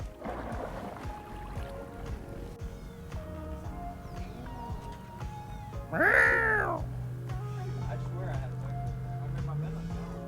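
A single drawn-out, high-pitched mew like a kitten, rising and falling, heard over steady boat engine hum and background talk outdoors while crappie fishing on Lake Okeechobee.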